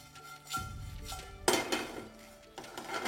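Whole spices for chicken pulao being mixed and dry-roasted directly in a frying pan over a medium flame, with intermittent metallic clinks and scrapes of a utensil against the pan.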